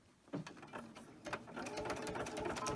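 A sewing machine with a regular presser foot stitches a zipper edge on a small fabric coin purse. Its rapid mechanical whir starts with a few short bursts, then settles into continuous stitching, close and clear.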